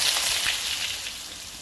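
Potatoes dropped into hot oil with mustard seeds and cumin, giving a steady, loud, hissing sizzle with fine crackle throughout.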